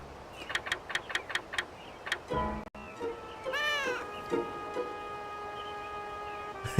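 A cat meows twice in the PS2 video game Shadow of Destiny, drawn-out rising and falling cries heard close and clear after a run of soft ticking clicks, with a low game tone lingering underneath.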